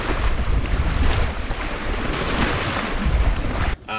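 Wind and waves rush steadily past a C&C 30 sailboat under sail, a loud continuous wash of water and microphone buffeting that cuts out abruptly near the end.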